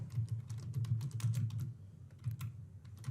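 Quiet, close typing on a computer keyboard as a name is entered, a steady run of light key taps over a low background hum, with no talking.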